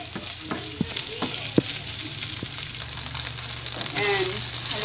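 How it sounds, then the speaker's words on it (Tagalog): Hotdog sisig frying in a pan while being stirred, a steady close sizzle punctuated by sharp scraping and clacking strokes of the utensil against the pan, no talking. "Halu-haluin natin,"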